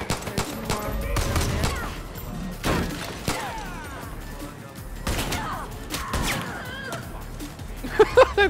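Shotgun blasts in the co-op video game Far Cry New Dawn, several loud, sharp booms spaced a second or so apart amid crashes and combat noise, with a voice talking in between.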